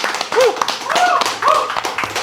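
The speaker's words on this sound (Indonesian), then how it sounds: "sekali lagi terima kasih untuk Heru, tepuk tangan." Audience clapping for a guest performer at a talk show, a short burst of sharp claps with some whistles or cheers mixed in, loud and close.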